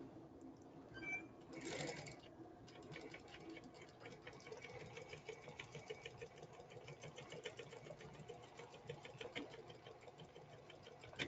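A sewing machine stitches fabric along a marked line on a theatrical bodice, its rapid needle rhythm running steadily and close up throughout, with a faint underlying hum and no talking.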